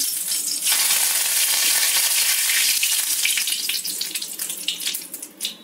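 Curry leaves dropped into hot oil set off a loud, sudden sizzle that sputters and crackles close by, then gradually eases into uneven popping bursts.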